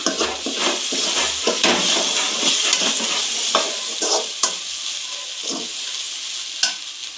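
Gobi manchurian sizzles and fries in a pan, stirred with a utensil that scrapes and clinks against the metal in irregular strokes over a steady hiss, close and fairly loud, with no talking.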